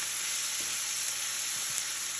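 Green onions and tomato cook in a pan for a cod and potato dish in a wine and tomato sauce. A steady, fairly loud sizzle holds throughout, with a few faint soft clinks beneath it and no voices.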